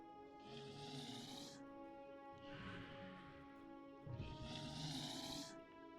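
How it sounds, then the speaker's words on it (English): A dragon in the online game DDO breathes in three slow, heavy, rasping breaths, each a broad hiss lasting about a second and evenly spaced, over a steady bed of droning game music. "I hear him breathing."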